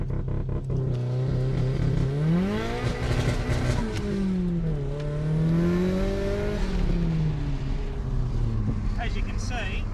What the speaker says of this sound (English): We're just testing my new launch control system in an S13 Silvia. We've got a 4000 RPM limiter